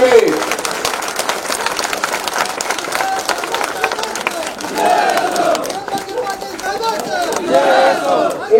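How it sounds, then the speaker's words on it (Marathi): A large crowd at a political rally applauds and cheers steadily, a dense wash of clapping and shouting that rises in bursts, with a speaker's voice heard amid the noise. "त्यांच्यासाठी आपण एकदा उभा टाकून टाळ्या वाजवायला पाहिजे."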